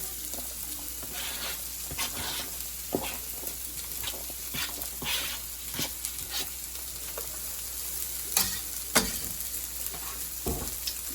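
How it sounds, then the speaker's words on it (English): Onions frying in leftover bacon grease in a skillet, a soft continuous sizzle broken by frequent scraping and stirring clatter, fairly close and with no talk. "I just left the little dribbles of bacon grease in here. This is to caramelize the onions."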